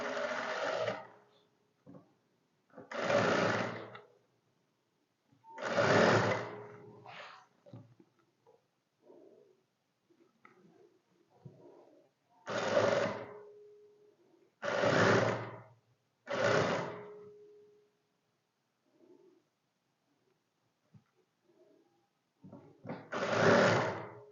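A sewing machine stitches a shirt neckline in short bursts, seven loud whirring runs of a second or so each, separated by quiet pauses with faint handling noises.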